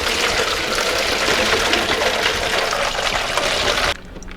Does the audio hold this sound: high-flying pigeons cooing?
no